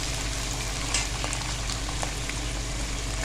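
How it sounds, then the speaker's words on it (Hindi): Fried chicken tossed into sizzling masala for chicken korma, a dense, constant bubbling sizzle close by with faint clinks and stirring sounds and no talking. "अब हम इसमें डाल देंगे फ्राई किया हुआ चिकन"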